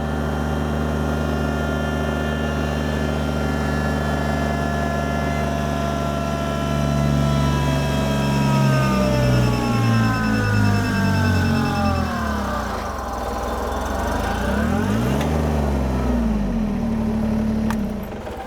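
A Kubota BX23s compact tractor on turf tires pulls hard in low-range four-wheel drive with the diff lock engaged, its diesel engine droning loudly and steadily while the pitch sags and wavers under load.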